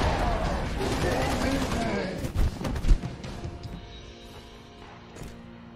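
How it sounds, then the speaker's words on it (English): Gunfire in the Halo video game, rapid bursts and heavy impacts over the first three seconds under excited talking, then fading to quieter ambient game sound. "Hearing friendly gunfire."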